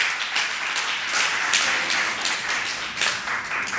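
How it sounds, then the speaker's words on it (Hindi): Students in a government senior secondary school classroom clap together in a quick, continuous burst lasting a few seconds, fairly close and uneven in rhythm. "इनके लिए ताली बजाना"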